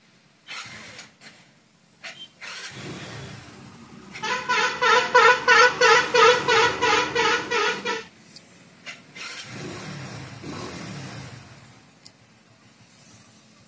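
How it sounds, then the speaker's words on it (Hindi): A Hero Passion Pro i3s motorcycle's electric starter cranks, clutch pulled and in gear, in a rapid, even series of about a dozen pulses before the engine catches, with quieter handling noises before and after. "इसके बाद जो मैं क्लच दबाता हूँ और सेल्फ मारता हूँ।"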